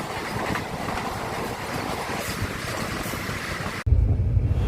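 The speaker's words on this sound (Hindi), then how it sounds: "तो यहाँ पर हमारा क्रॉसिंग हो रहा है चंडीगढ़ अजमेर वंदे भारत" A passing Chandigarh–Ajmer Vande Bharat Express rushes by at night, heard from inside a moving train coach as a steady loud rail roar with rhythmic clatter, ending in an abrupt shift to a deeper rumble.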